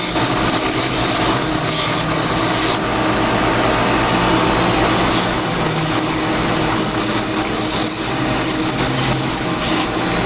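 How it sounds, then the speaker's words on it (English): Sandpaper of 180 grit pressed against turning wood on a lathe gives a loud, steady rasping hiss that runs throughout, with brighter scratchy surges as the paper contacts the spinning workpiece. "Next I'm going to switch over to some sandpaper. I am starting with a 180 grit."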